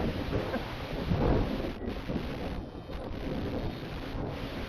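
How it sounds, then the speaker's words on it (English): Strong wind roars and buffets the microphone in a dense, steady rush, with gusts swelling and easing but never letting up. "I'm yelling because it's really windy"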